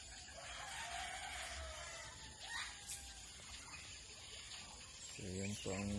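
Backyard chickens cluck and a rooster crows, heard at a distance over steady outdoor noise and running water, with a short burst of louder clucking close by near the end.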